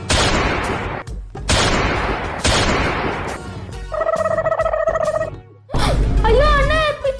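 Three loud, close gunshot bursts in quick succession as a gun is fired at a TV indoors, followed by a gap, then warbling tonal noise and a final burst of sound.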